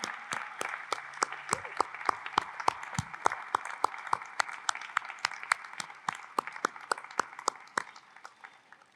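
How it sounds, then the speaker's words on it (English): A small crowd at a university commencement ceremony applauds with distinct, evenly spaced claps, moderately loud and steady for several seconds, alone without talking. "We're clapping for you three."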